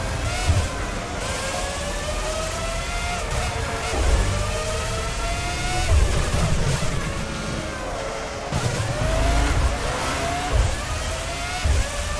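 A Formula One car in the Formula One 05 game on PS2 accelerates out of the pits, its high engine note climbing and dropping through repeated gear changes, loud and close, with other cars roaring past.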